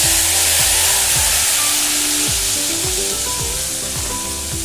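An egg fries with chili paste of turmeric, chili and salt in a hot pan, sizzling loud and steady throughout with occasional scraping stirs, close up, and no one speaking.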